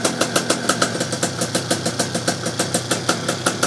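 A 50 hp boat runner engine runs steadily up close, a loud, heavy, even pulsing chug of rapid regular beats with no talk over it.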